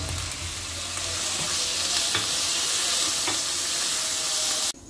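Chicken pieces frying with garlic in a pan give off a loud, steady sizzle with occasional stirring scrapes, close up and continuous until it cuts off abruptly near the end; no one speaks.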